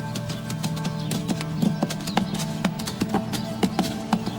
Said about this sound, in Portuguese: uma manada de antilocapras se move com eficiência especializada pelo terreno aberto